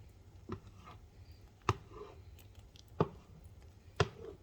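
Strawberries being broken up for strawberry preserves, with a few soft, separate knocks of a utensil against the pot or bowl spread over several seconds in a quiet kitchen.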